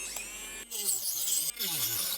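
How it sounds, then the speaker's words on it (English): Rotary tool with a wood cutoff wheel shaping a small wooden unicorn horn to a point, two short bursts of high whirring and rasping grind separated by brief pauses, quiet and close. "I'm going to take this down into a point and use the wood cutoff wheel"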